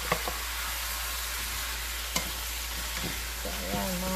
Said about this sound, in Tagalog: hahayaan lang nating masangkot siya ang ating bibe, ang ating duck